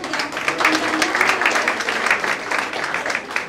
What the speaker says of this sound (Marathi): टाळ्या वाजवून तिला शुभेच्छा द्या